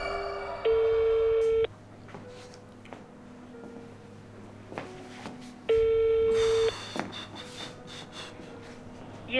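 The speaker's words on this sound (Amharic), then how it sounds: "ስልኩ አይነሳም።" An unanswered telephone call plays two long ringback tones through a handset, separated by a few seconds of quiet with faint background rustle, the tone loud and electronic each time.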